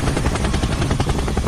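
A helicopter in the video game Dude Theft Wars, its rotor thumping in a fast, loud, close pulsing beat over a roaring engine, steady and alone with no voices.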